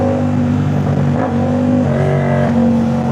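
A Yamaha MT-07 motorcycle fitted with a Jeskap full exhaust revs loudly and close, its deep throaty engine note holding steady with slight rises and dips throughout, with no talk over it.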